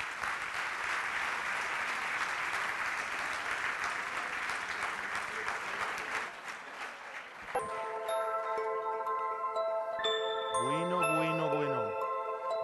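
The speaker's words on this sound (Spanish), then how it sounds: "ese fuerte aplauso para él" Audience applause for magician Alexander at a youth creators' awards ceremony, loud sustained clapping for about seven seconds, then fading as bright chimes and tonal jingles with a sliding tone take over.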